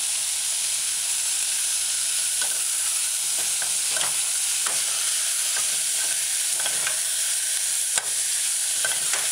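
Vegetables with tomatoes sautéing in a pan for a saltfish and eggplant stew, a constant close sizzle and hiss with repeated clicks and scrapes of a spoon stirring through them.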